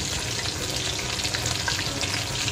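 Chicken pieces fry in oil over a medium gas flame with a dense, steady sizzle. The crackle is close and continuous, and no one speaks.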